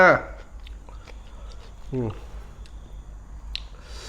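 Crisp fresh vegetables eaten alongside Isan-style raw beef koi are chewed close up in a few crunchy bites, with brief quiet sounds between them.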